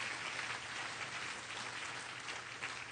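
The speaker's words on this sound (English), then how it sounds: "Can we give her another round of applause?" Steady, fairly quiet applause from an audience at a 2010 fundraiser for the Mosaic Project, a dense even patter of many hands lasting the whole stretch with no voices over it.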